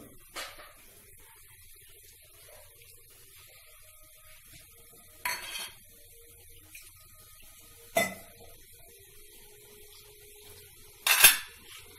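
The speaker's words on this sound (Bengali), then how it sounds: "তলা উপর করে নেড়ে নিলাম। এই মশলাটা ভালো করে সব মিশিয়ে দিচ্ছি।" Okra being stirred with salt and spices in a pan, a quiet scene broken by a few sharp scrapes and clinks of a utensil against the metal, spaced several seconds apart.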